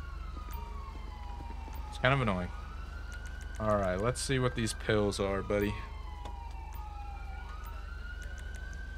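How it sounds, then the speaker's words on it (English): Police car sirens in GTA V with the LSPDFR police mod, a wailing tone rising and falling faintly in the distance beneath a low engine drone, while someone talks over it. "why are those cops just running around with their sirens on?"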